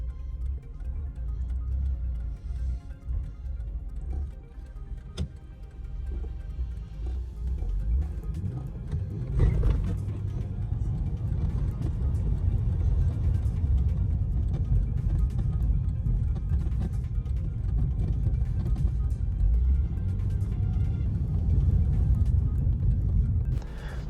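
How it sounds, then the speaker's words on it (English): Nissan ER34 Skyline with a massive boost leak from a fake blow-off valve, engine sputtering and struggling to run, a rough uneven idle heard from close by. "the sound that you guys heard there with the car sputtering and not being able to run was a massive boost leak caused by not only the blow-off valve"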